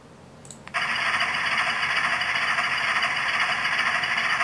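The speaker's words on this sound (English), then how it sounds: "So here we are with this engine, and let's start her up and see what she does" An Atlas CSX genset model locomotive with a sound decoder starts abruptly after a brief click, then runs at a steady, even, loud electronic engine hum with a bright buzzing tone.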